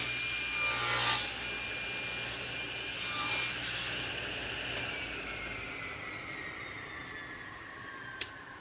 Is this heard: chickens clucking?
no